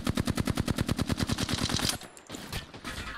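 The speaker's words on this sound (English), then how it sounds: "No, stop fucking shooting me, yo." Rapid automatic gunfire from enemies in Apex Legends, a dense run of loud, evenly spaced shots for about two seconds, then scattered fainter game sounds and impacts.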